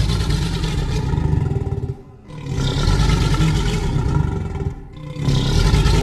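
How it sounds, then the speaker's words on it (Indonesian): Reconstructed Triceratops roar, a deep growling rumble that swells loud in two long sustained bursts with brief dips between, resembling a pack of revving motorcycle engines. "kita langsung dengerin suara aslinya Triceratops kayak gimana"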